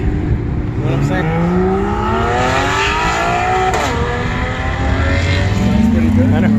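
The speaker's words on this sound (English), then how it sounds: "Sounds pretty good. I know. The base Carrera." A base Porsche Carrera engine revs loudly up and down in long rising sweeps, close and dominant, with voices briefly audible in the background.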